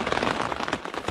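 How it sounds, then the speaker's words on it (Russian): Heavy rain in the Canadian mountains drums on a surface nearby, a dense, steady patter of drops for a brief moment, with no voices. "Влупил дождь."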